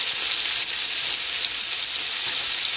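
Chopped mango with dried red chilli and five-spice sizzles steadily in hot oil in a pan while being stirred, a continuous close, fairly loud frying hiss without pauses or talk.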